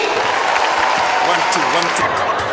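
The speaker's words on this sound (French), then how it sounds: "applaudissements pour lui" Steady broadband wash of audience applause filling a comedy show venue for the full stretch, loud and continuous, with a voice speaking over it partway through.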